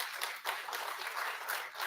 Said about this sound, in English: really needs a round of applause